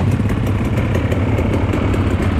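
A motorcycle engine runs steadily close by, a continuous throbbing drone with a fast, even pulse and no voices over it.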